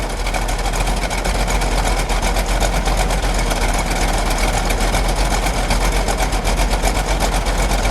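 A 1971 Plymouth Cuda convertible's 383 V8 idles steadily with a deep, even rumble, loud and close throughout with no talking.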